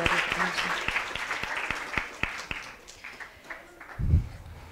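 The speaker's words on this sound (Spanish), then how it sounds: "Un aplauso, por favor," A conference audience breaks into applause, a fairly sparse patter of claps that fades out, followed by a brief low thump near the end.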